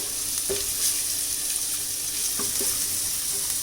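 Garlic fries in hot oil for a spiced puffed-rice snack, giving a steady close sizzle with a few soft stirring scrapes and no talk.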